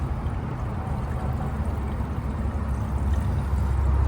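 Water pours from a jug into a 2003 Suburban's coolant system, a steady gurgling, splashing flow heard up close over a low rumble, slowly swelling toward the end with no talking.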